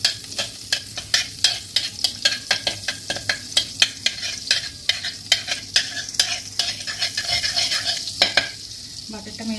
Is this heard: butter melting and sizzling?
yes